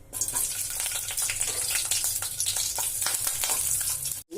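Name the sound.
broken green chillies frying in oil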